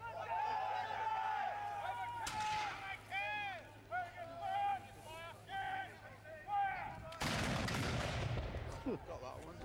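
A musket volley at an English Civil War reenactment cracks out as a loud, broad blast near the end, with a smaller report earlier. Spectators talk and cheer over it while a crowd murmurs throughout.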